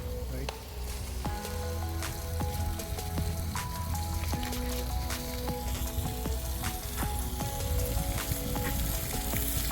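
Steak sizzles loudly and steadily in a hot pan during a Memorial Day cookout in California, with crackling pops throughout and occasional scraping or stirring clatter.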